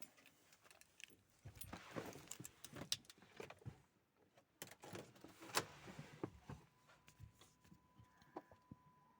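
Car keys are picked up inside a car converted to run on E85, faint metallic jingles and clicks scattered over several seconds with quiet handling noise, ending in a soft steady tone.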